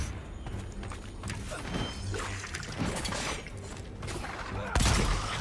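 Rapid gunfire in the fantasy action game Avowed, a string of sharp shots and impacts over busy combat noise, with one heavier blast near the end.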